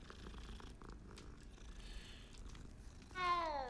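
A cat purrs softly and steadily in Hogwarts Legacy, a low continuous rumble against game ambience, then a brighter, louder meow-like tone near the end.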